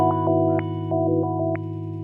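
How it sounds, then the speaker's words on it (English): An electric guitar played through the OD1 overdrive of a Zoom Fire 7010 amp and effects processor, sustained distorted chords with short picked accents ringing out, alone and up close. "This gives natural sounding overdrive distortion similar to that achieved with conventional compact effects"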